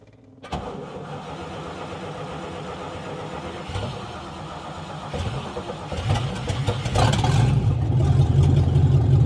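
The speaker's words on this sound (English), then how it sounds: "So right now this car is really loud and I need to fix the exhaust" A car engine cranks and fires, then settles into a loud, rough idle through a faulty open exhaust that grows louder and more rumbling toward the end.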